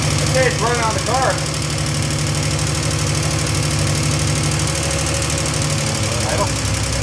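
A 1971 Triumph TR6 engine idles with a steady, loud low rumble and rapid rhythmic ticking throughout, close by, while a voice speaks briefly over it.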